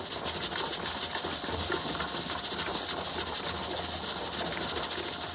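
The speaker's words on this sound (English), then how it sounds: "The canner is blowing steady steam." A stovetop pressure canner loaded with chipotle black beans vents steam in a steady, loud, continuous hiss that stays even from start to finish, with no talking over it.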